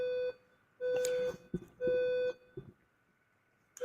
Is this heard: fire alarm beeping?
yes